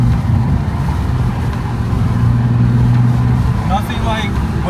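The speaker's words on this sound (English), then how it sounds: "You just hear the noise of the air, you can enjoy the breeze." Wind rushing through the open windows of a moving Toyota A90 Supra fitted with wind foilers, a loud steady roar of air mixed with road noise, with a brief voice near the end.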